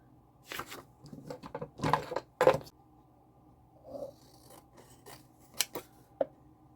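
Scissors snip out a picture of a pink cake from a kids' paper flashcard, giving a close run of crisp, irregular cuts and rasping blade strokes with short pauses between them.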